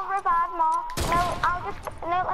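A single sharp rifle crack from a sniper rifle fired without the scope in the video game Fortnite cuts loudly through the middle. Excited voices talk before and after the shot.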